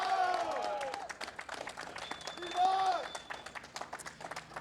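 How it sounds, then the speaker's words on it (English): A crowd applauds a race winner at a junior single-seater event at Homestead, with steady clapping running under a loud announcer's voice and brief tonal sweeps of passing cars. "a round of applause for Ivan Machado."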